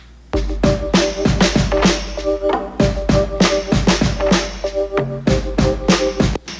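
A rhythmic guitar pattern plays in short repeated strums over a steady drum beat, punchy and up front.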